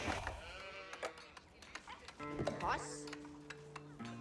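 Sheep in Age of Empires IV let out several short, nasal bleats over sparse in-game tones and light clopping. The effects are moderately quiet and close.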